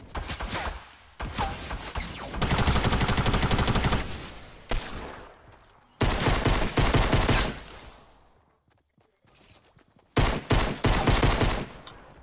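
Gunfire in the video game Fortnite, loud rapid bursts of automatic shots in several separate volleys with brief pauses between them, close and dominant.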